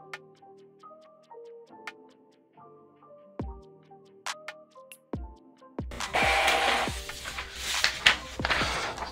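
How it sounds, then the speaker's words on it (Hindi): Epson L3150 inkjet printer feeding and printing paper, a series of mechanical ticks, clicks and whirring motor steps, then a louder rushing sweep of the print carriage, close and alone. "प्रिंटर में से हल्की सी आवाज़ आई और पेपर वहाँ से इंसर्ट हो चुका है"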